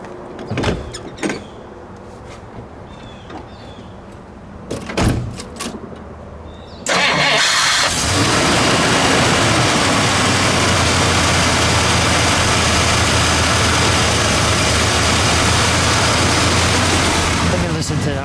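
A 1957 Chrysler Windsor engine cranks and catches at once, then settles into a loud, steady idle that runs continuously, after some quiet talk and handling noises beforehand.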